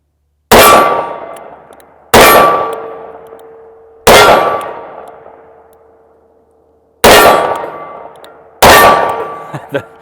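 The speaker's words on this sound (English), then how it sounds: "Shoot 5 more of these 357 loads." Five .357 loads fired one at a time from a Smith and Wesson 640 revolver ring out as loud, sharp cracks, each decaying with a long ringing tail, spaced roughly two seconds apart.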